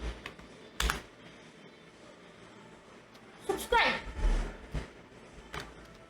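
Someone types on a computer keyboard in Command Prompt, with scattered clicky keystrokes and a few heavier key taps between stretches of someone talking.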